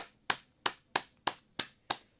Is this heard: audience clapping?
yes